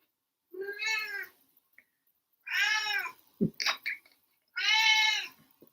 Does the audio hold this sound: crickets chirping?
no